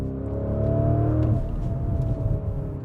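A Lamborghini Urus runs at steady speed with a smooth, fairly calm exhaust and engine drone, easing from a sustained tone into a lower rumble, close and continuous with no talk.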